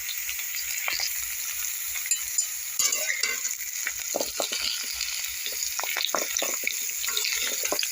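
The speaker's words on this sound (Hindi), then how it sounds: "तो इस तरह ये दोनों चीज़ को अब हम फ्राई कर लेंगे बीच बीच में चलाते हैं।" Potatoes and drumsticks frying in oil while being stirred, a steady close sizzle with scattered scraping and clattering strokes, and no talking.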